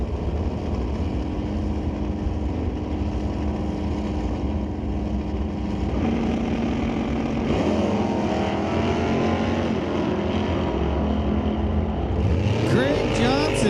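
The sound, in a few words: '83 Monte Carlo drag car launching down the strip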